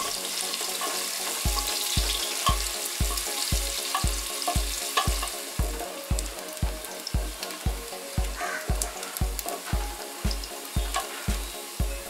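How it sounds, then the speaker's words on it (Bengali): Chopped onions fry in oil for a South Indian sambar, a steady close sizzle broken by regular rhythmic thumps and scrapes of stirring in the pan. "এরপর পেঁয়াজ কুচি দিয়ে হালকা সোনালি রং আসা পর্যন্ত ফ্রাই করে নিচ্ছি।"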